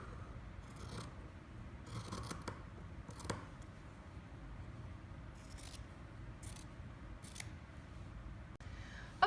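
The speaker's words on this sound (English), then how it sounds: "Then you're going to cut around the shape, leaving about 1/2 inch of extra fabric all around." Scissors snip through fabric around a pin cushion shape, a quiet, close series of irregular crisp cuts and rustles with short pauses between them.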